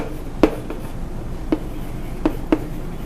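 A teacher writes on a board during a biology lesson, producing four sharp, isolated taps spread out over a few seconds against a quiet room, with no speech.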